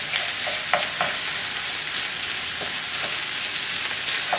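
One and a half pounds of ground beef browning in a pan, a dense continuous sizzle with occasional spatula scrapes and clicks, close and steady throughout.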